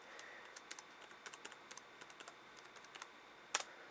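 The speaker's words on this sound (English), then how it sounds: "So let me type in my password here." A password is typed on a computer keyboard, heard as quiet, close, irregular key clicks with one sharper final tap.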